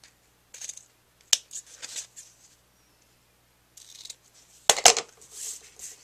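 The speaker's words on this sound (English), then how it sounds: "And then I'll trim it off on the sides." Scissors trimming ribbon off the sides of a handmade stamped card: several sharp, close snips in short bursts with pauses between, quiet setting with no talking.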